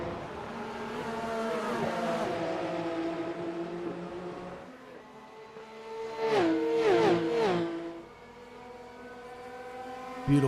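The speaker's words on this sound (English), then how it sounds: "Beautiful sounding Porsches whizzing by turn 12." Porsche race cars whizzing by turn 12 at Road Atlanta, engines droning in the distance then several roaring past in quick succession with pitch dropping as they go, loud and continuous.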